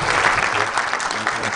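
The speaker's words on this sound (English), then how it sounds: "Give them a very good round of applause" A conference audience at the IFC Sustainability Exchange gives panelists a loud, full round of applause, dense steady clapping heard up close throughout.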